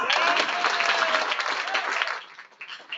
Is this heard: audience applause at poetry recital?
yes